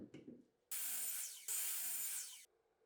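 A miter saw cuts through wood with the shop vacuum disconnected: two loud, sustained bursts of bright whining saw noise back to back, each roughly a second long, with a brief dip between them and quiet shop sounds before and after.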